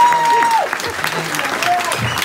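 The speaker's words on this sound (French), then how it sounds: "On peut applaudir sur notre réunion." Audience applause at a concert, a steady mid-level clapping wash with some tonal music or voice traces faintly underneath.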